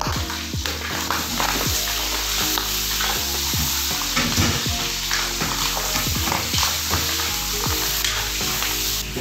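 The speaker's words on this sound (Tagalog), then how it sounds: "Ilagay na natin yung ating mga sibuyas." Onions sizzle and fry in a pan for ginataang laing, a Filipino taro-leaf dish, with steady crackling under repeated stirring scrapes and light clinks of a utensil against the pan.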